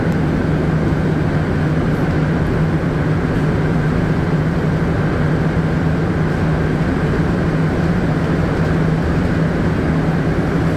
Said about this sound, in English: Get a nice view of the train departing